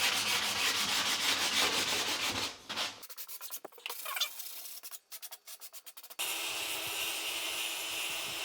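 An edging sander runs loudly at the start, drops away into a few seconds of scattered scraping and clicks, then starts up again in a steady whir during tiling work on a sloped shower ceiling.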